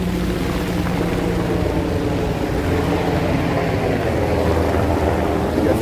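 A Coast Guard helicopter flies over the Chicago skyline, a steady, distant engine drone that holds evenly throughout, with no speech.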